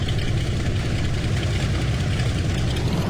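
A 4x4 off-road car in the game Offroad Outlaws, stuck in mud, its engine droning in a loud, steady, low rumble without a break.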